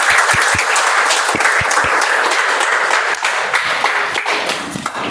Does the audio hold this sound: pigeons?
no